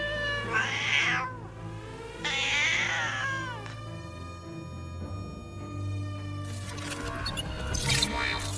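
Cats meow loudly and repeatedly, two long drawn-out cries followed by further wailing calls close by, with no one talking over them.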